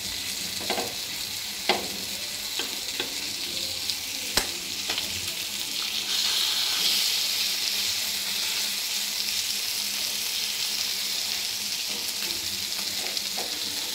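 Sarpunti fish sizzle steadily in a pan over low heat, a constant bright frying hiss broken by a few sharp clicks and spatters as they are moved, with no talking.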